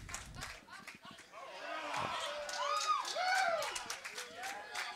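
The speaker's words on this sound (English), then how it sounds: "Great applause here in the Mission Director Center." A crowd in the Mission Director Center during the Ares I-X countdown breaks into applause, a steady wash of clapping and cheering running beneath people talking.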